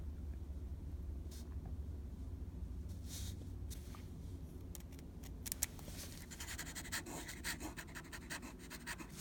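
A fountain pen with a broad, rubbery-feeling nib scratches across paper, quiet intermittent strokes and scrapes that grow busier toward the end, over a low steady rumble.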